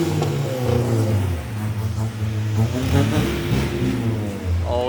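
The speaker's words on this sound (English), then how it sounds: "So the green Civic just lost its exhaust. I mean, it just cracked in half" A green Honda Civic with a cracked, split exhaust revs close by, its engine note rising and falling in uneven bursts with a raspy rumble that carries steadily throughout.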